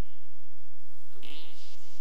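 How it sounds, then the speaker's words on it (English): A short burst of farting in a South Park video game, a buzzy, sputtering blast arriving after a quiet stretch, close and loud, with no talk. "We're just going to rapidly fart as much of this shit as we"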